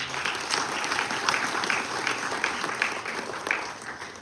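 Sustained applause from the audience at a book launch, thick and even clapping from many people that carries on steadily throughout, fairly loud and without talk.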